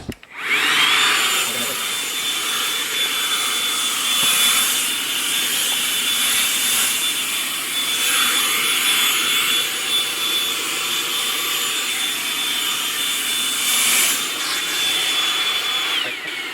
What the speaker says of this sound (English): fit pretty much any common size vacuum, including this little handheld one